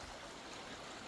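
Steady river water rushes and gurgles continuously at a farm on a morning, a dense, even wash of flowing sound with no voices.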